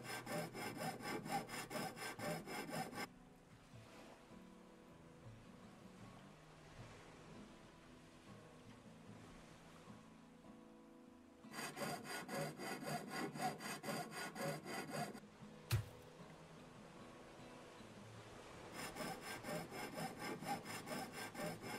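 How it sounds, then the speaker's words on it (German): Hand saw cutting in the salvage game Ship Graveyard Simulator, loud rasping strokes in three bursts separated by quieter stretches with faint background rumble and a single thump. "die Säge"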